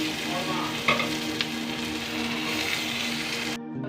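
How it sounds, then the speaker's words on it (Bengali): Chopped tomatoes fry in a pan over onion and spice masala, giving a dense continuous sizzle with a few light spoon scrapes, then cutting off abruptly near the end. "আর এর মধ্যে টমেটো কুচি দিয়ে দেবো।"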